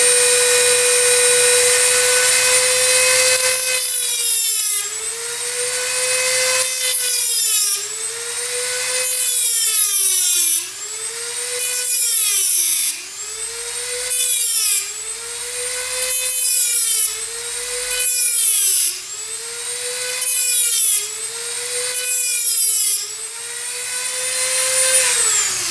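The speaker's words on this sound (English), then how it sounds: "get a good cut right in the center of the head of that screw" A high-pitched rotary cutting tool whines steadily while slotting the damaged screw head on an 1899 Charles Daly shotgun receiver, its pitch dipping and recovering in repeated passes of a few seconds each, close and loud.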